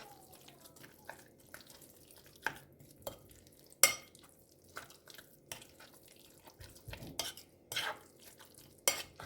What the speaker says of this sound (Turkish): Tekrar karıştıracağım şöyle.